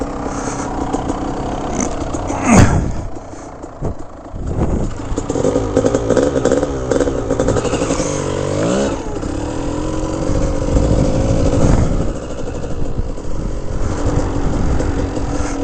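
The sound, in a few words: Kawasaki KDX 200 motorbike engine running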